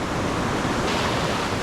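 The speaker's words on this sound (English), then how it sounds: "Pacific Ocean." Pacific Ocean surf at Manuel Antonio on the coast of Costa Rica makes a steady, loud, close wash of breaking waves that fills the air without a break.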